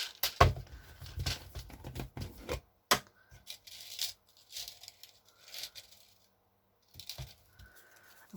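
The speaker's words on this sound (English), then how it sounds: "let me put the paper clip on." A paper clip is slid onto a piece of paper craft, giving small crisp clicks, scrapes and rustles in short bursts with pauses between them, close and fairly quiet.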